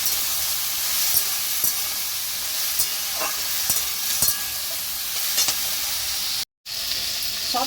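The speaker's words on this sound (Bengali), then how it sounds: "পুঁই শাকটা একটু হালকা করে ভেজে নেবো" Malabar spinach (pui shak) fries lightly in a pan with vegetables, a steady close sizzle and hiss with scattered crackles and soft stirring clicks, cut by a short silent gap near the end, no talking.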